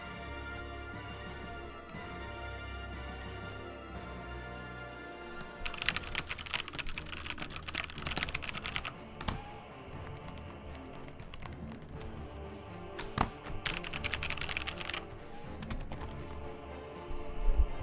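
Steady typing on a computer keyboard during a live stream of the game Slay the Spire, with fast bursts of clicking keystrokes that grow louder and denser in stretches, heard alone without talk.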